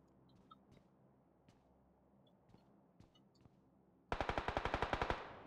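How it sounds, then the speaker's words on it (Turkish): Rapid automatic gunfire from a PUBG firefight bursts in loud and close after a stretch of faint scattered distant shots, a dense rattling string of rounds running to the end. "Gene çatışıyorlar bak çatışma sesleri geliyor"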